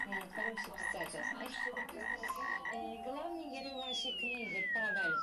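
Cartoonish frog croaks from a game, mixed with chirpy electronic sound effects and a long descending synth sweep.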